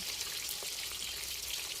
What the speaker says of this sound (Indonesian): Nah ini kita gorengnya itu di api besar, minyaknya panas, gorengnya sebentar aja karena pada dasarnya ini ayam udah mateng ya.